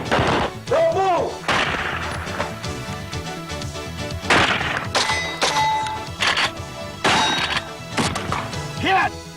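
Firearms shot during training at the Gunsite facility: several loud, sharp gunshot cracks at uneven intervals, mixed with an instructor shouting commands.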